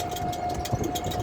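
A motorcycle engine runs at a steady idle nearby on a roadside, a low, even hum with a faint mechanical whine, briefly and quietly, with no voices.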